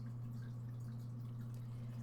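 Quiet water drips in a Minecraft-style game landscape, a few soft droplets sitting faintly above a constant low hum, with no one speaking.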